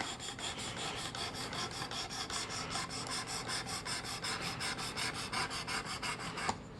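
A knife being sharpened on a Work Sharp Precision Adjust sharpener, rapid rhythmic rasping strokes repeated evenly about four times a second, close and fairly quiet, ending with a small click.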